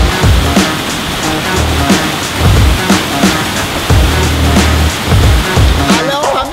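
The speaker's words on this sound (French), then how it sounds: "c'est une cascade d'un barrage et elle est juste en face" Artificial waterfall spilling from a dam, a steady loud rush of falling water close by, with brief voices over it near the end.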